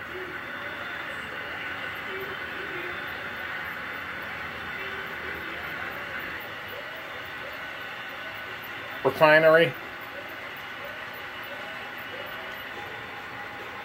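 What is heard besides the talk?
model train running on track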